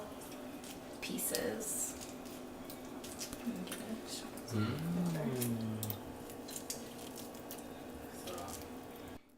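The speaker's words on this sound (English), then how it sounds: "you just break up the fruit and you just put it in the water" Strawberries are broken up by hand into about eight cups of water to make a shirt dye, giving faint wet squishes and splashes beneath a speaking voice that dominates.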